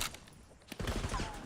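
Video game gunfire bursts out in quick volleys during a team match, loud and sustained toward the end with a brief crack near the middle.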